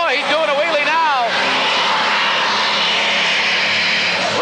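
A 9500 super stock pulling tractor roars loud and continuous through a pull at an indoor 1986 tractor pull, a commentator talking over the start before the engine drowns him out.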